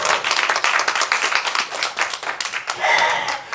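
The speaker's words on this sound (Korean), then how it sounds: "그럼 박수 한번 보내셔야지 될 거 아닙니까?" Audience applause during a church sermon, dense steady clapping from many hands filling the room, continuous and fairly loud throughout.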